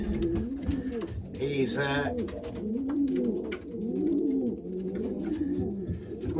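Racing pigeons coo in a loft, low rolling calls repeating throughout, close and fairly loud, while someone talks over them.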